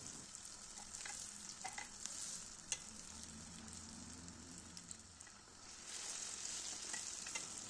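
Potato pişi dough fries in hot oil, a soft, steady sizzle and crackle with occasional sharper pops, heard close and fairly quiet with no talking.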